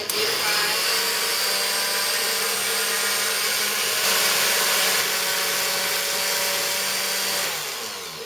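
A kitchen blender purees curried carrot soup, a steady close whirring motor drone that holds for the whole stretch with slight shifts in pitch and fades near the end.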